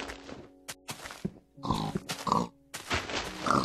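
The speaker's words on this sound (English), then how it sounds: "Oh, you're too fast, pig." A pig in the Minecraft video game grunts and oinks in several short, close, fairly quiet bursts with brief gaps between them, and no talking over it.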